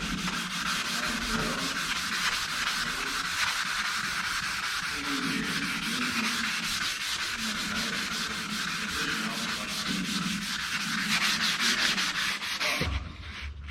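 Hand sanding with the soft side of a sanding block, a steady close rhythmic rubbing scratch that continues without pause before stopping abruptly at the end.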